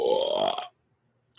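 A single loud, drawn-out human burp sits close to the listener, lasting well over half a second and then stopping abruptly into silence.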